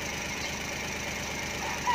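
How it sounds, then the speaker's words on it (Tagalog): Car engine idling steadily after an ignition coil replacement, a close, even, continuous hum with a faint rhythmic pulse. "maganda na yung andar ng ating makina"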